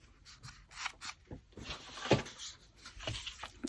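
Scissors snip paper ephemera for a junk journal, a few quiet, irregular cuts and rustles close by at a soft level, with no one talking.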